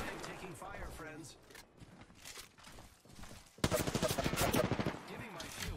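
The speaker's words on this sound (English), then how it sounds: "I'm taking fire, friends." Gunfire from the Apex Legends video game comes through as a rapid, loud burst of automatic shots in the second half, with a person talking over quieter game sounds beforehand.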